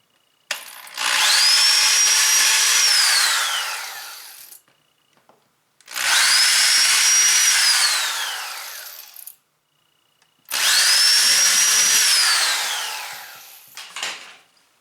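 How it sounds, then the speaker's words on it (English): Power drill boring holes through a plastic cat litter box, three separate loud bursts of a couple of seconds each with the motor whining and pitch sliding as the bit cuts, separated by short pauses, close and alone. "I drilled a hole in this furthermost corner, this one, and then I did one in the center"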